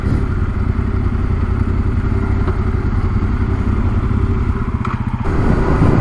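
An adventure motorcycle on a GPS rally rumbles loudly and close as it rolls slowly into a service station to park, the engine idling steadily with a shift in tone near the end.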